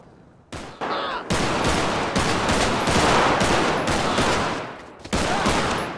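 Gunfire in the video game GTA 5: dense, loud bursts of shots that run almost continuously for several seconds, broken by a few short pauses, with no talking.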